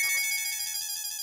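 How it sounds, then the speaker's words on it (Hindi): A phone ringtone rings steadily, a bright electronic tone that holds unbroken and loud, with nothing else heard. "ओह, बासुंदी का फिर से फोन।"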